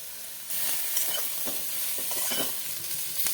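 Brinjal slices frying in hot oil in a Bengali kitchen, a steady close sizzle with scattered crackles and spatters that starts abruptly after a brief quiet moment.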